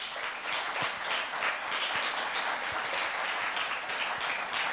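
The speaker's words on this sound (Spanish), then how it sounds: "Dele un aplauso" A church congregation applauds, a steady wash of clapping from many hands that holds at even strength for several seconds with no talk over it.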